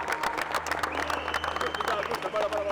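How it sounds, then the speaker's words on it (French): A team applauds after a victory, with close, lively clapping mixed with cheering voices and shouts throughout. "On applaudit."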